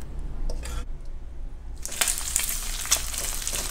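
Steady crackling sizzle of pork frying in a pan, growing louder and busier partway through, with a low background hum.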